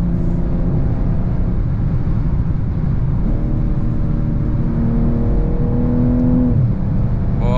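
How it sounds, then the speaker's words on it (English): Interior engine and exhaust drone of a 2022 BMW M240i in Sport Plus, rising through the revs with a few quick, abrupt gear changes marked by stepped pitch shifts, loud and continuous with road noise beneath. "It makes really aggressive upshifts. This is really not normal."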